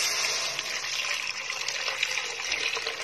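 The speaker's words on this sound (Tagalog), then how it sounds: "Pag medyo naluto na yung kamatis, yung mga ingredients, lagyan na po natin ng tubig." Water pours steadily into a cooking pot of tomatoes and other ingredients, a continuous close splashing gush with no talk.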